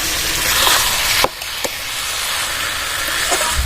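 Jackfruit and spices sautéing in a pan, giving a steady, close sizzling hiss throughout, broken by a couple of brief clicks from the spatula.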